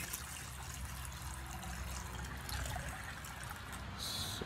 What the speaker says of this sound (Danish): Men så smider I simpelthen bare lige halen ned i vandet, ned i saltet, og så hælder noget lunken vand over.